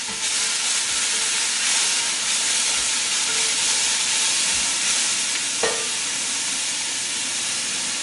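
White bean and kale stew simmers in a pot with a steady close hiss and sizzle, and a brief clink near the end, with no talking.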